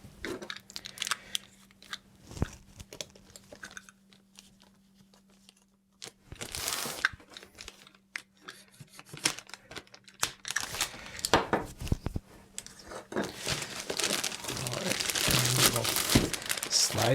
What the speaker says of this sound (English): Slide the plastic off.